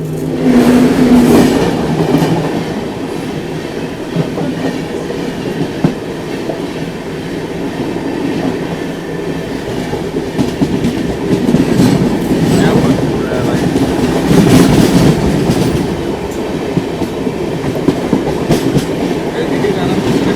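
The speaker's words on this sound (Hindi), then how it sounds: "अभी सामने से ये आ रही है LTT मुंबई राजगीर जनता एक्सप्रेस क्रॉसिंग के लिए" The LTT Mumbai–Rajgir Janata Express passes at a crossing before Chunar Junction, heard from aboard a moving train as a loud continuous rumble with rhythmic wheel clatter throughout, a brief squeal early on and voices talking underneath.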